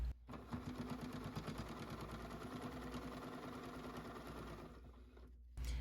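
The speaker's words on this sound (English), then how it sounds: "Sew around the top curved edge, making sure not to catch your straps in the seam." A sewing machine runs steadily, stitching around the top curved edge of a fabric nature basket. It is a continuous close mechanical whir of about five seconds that stops abruptly near the end, with no talk.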